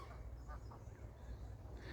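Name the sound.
geese and ducks on a lake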